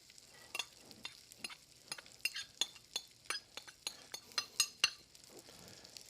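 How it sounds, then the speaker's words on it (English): Cooked brown rice sizzles quietly in a pan while a utensil scrapes and stirs, producing a series of irregular clinks and scrapes, close and soft. "we're just going to hear it start to sizzle a little bit"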